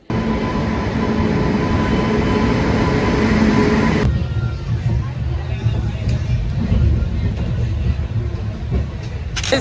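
A train rumbles steadily with rail noise and hum at a railway platform on the way to Mysuru, a louder rushing passage giving way to quieter rolling; voices murmur faintly in the background.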